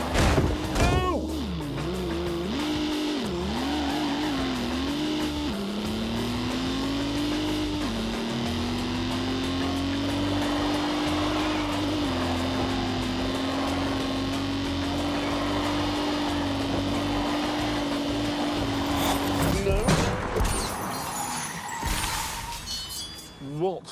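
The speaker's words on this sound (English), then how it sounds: "What was that noise? Whole car's vibrating." A car in The Grand Tour racing video game hums with a steady, droning engine vibration that shifts pitch now and then, accompanied by light clinking, with people talking over it.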